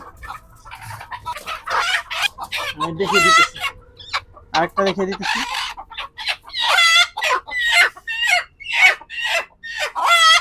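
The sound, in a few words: desi chickens clucking and squawking during vaccination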